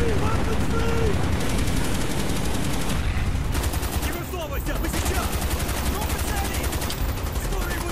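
An RPK light machine gun firing in Call of Duty: Black Ops, with rapid sustained bursts rattling over loud, constant battle noise.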